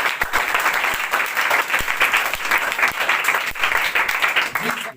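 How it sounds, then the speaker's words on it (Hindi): Audience applause for quiz prize winners at a coaching-centre mega quiz event, a steady, dense burst of many hands clapping that fills the whole stretch, with voices mixed in underneath. "ताली इनके लिए हो जाए।"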